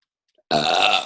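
A single loud, close burp rises abruptly and rolls on for about half a second before fading, heard alone with no talking over it.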